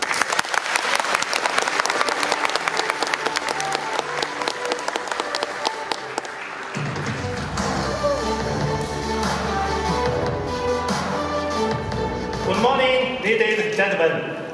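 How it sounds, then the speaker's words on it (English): Loud, dense applause from a keynote audience at Hisense's IFA 2023 presentation fills the first six seconds, then gives way to music playing on. "Please give him a huge applause and a big welcome."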